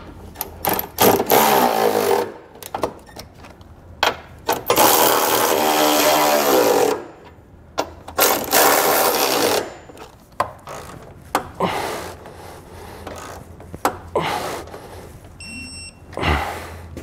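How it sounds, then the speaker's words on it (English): A 19 mm socket on a ratchet snugs up the six bolts of a trailer hitch receiver on a 2018 Nissan Pathfinder, heard as close, repeated bursts of ratcheting and rasping clicks separated by short pauses. "I'm going to come back with a 19 millimeter socket and snug them all up."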